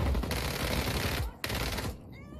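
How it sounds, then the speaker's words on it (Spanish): Rapid, dense gunfire from the video game Just Cause 4 rattles almost continuously for about a second and a half, breaks off briefly, then bursts again before fading out, loud and close. "¿Dónde carajos nos están disparando, tío?"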